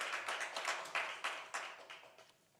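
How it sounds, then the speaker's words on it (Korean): Quiet, scattered clapping from a small church congregation during a Sunday worship service, a few sharp claps standing out before it thins and fades after about two seconds. "우리 하나님께 감사의 박수 올려드리겠습니다"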